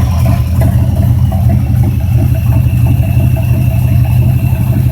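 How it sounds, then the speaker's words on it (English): A small engine, run again after 15 years unused, chugs in a steady, loud, slightly clattery rhythm close by, with no talking over it. "this is the engine running"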